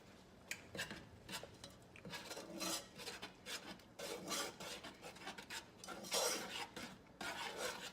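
Powdered Swerve sweetener is stirred into melted butter in a pan, a steady scraping and rubbing of a utensil against the pan that keeps going for the whole stretch, close by and fairly quiet, with no talking.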